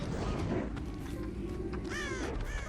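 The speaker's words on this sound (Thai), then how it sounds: "โอเคเสียงอีกา บินบ้านใหญ่ชัดเจนน่ะ" A crow caws in the Dead by Daylight horror game, a short call standing out near the end over a steady, dense game ambience and low rumble.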